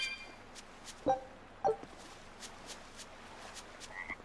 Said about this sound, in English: A frog! It's unusual to see one this close to the sea.